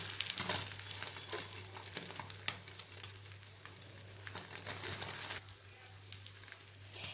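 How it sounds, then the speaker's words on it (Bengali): Beaten egg with a roti laid on top fries in hot oil in a pan, giving a soft continuous sizzle with scattered crackles and light stirring clicks, fairly quiet, no talking. "তেলটা গরম হয়ে গিয়েছে, তাই আমি এর মধ্যে ফেটিয়ে রাখা ডিমটা ছেড়ে দিচ্ছি"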